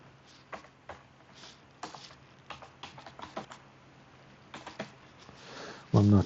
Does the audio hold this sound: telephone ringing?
no